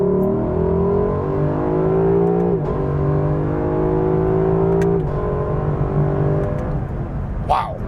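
A 2019 Lexus LC 500 coupe's V8 engine pulls hard under acceleration, a loud, steady, rising engine roar heard from inside the car, holding for several seconds with brief shift dips and no talking.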